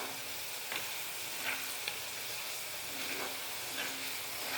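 Cashews fry in a pan for a jowar poha mixture, giving a steady, close sizzling hiss throughout with a few faint stirring scrapes and no talking.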